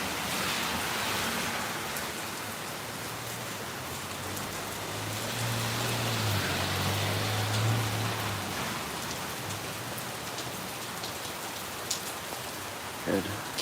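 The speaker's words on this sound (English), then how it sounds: "it's raining very steady, but it was like slamming down before" Steady heavy rain falls over Phnom Penh in rainy season, a constant dense hiss of drops on surfaces, with a low hum of passing traffic and occasional nearby knocks.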